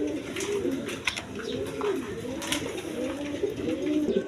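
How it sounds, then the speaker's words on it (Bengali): A pair of almond-coloured tulip pigeons coo steadily at close range, their low, rolling calls repeating in a continuous rhythm with faint background chatter. "দর্শকবৃন্দ এখানে এক পেয়ার টিউলিপ কবুতর আছে, আপনারা দেখেন অ্যালমন্ড কালারের মধ্যে"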